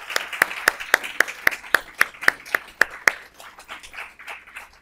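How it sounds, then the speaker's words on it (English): Scattered hands clap at an employee awards ceremony, a run of about a dozen sharp, evenly spaced claps from a small group, then dissolving into softer, looser clapping. "Let's give all of our awardees a round of applause."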